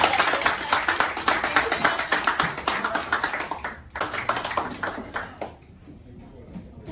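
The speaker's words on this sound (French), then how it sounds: "Applaudissez le" Audience applause at a book presentation for a Guinean novel, a dense run of hand claps through the first four seconds, briefly dipping, then thinning to scattered claps that fade toward the end.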